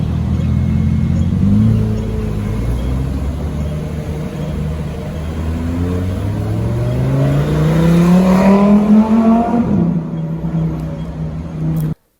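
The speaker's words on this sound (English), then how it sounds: "I also saw this Lamborghini, so enjoy that sound." A Lamborghini sports car engine roars past, rising to a loud revving peak before cutting off, with a deep steady rumble underneath.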